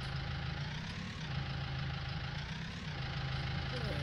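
A Minneapolis-Moline chore tractor engine in Farming Simulator 19 idles steadily with a low, even rumble, moderately quiet and continuous without revving.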